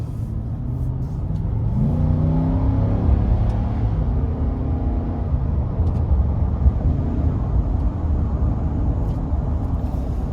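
Cabin view of a 2024 Nissan Titan XD pickup with the 5.6 Endurance V8 pulling onto an interstate: a steady engine rumble climbs in pitch under light throttle, joined by road and wind noise, with no voices.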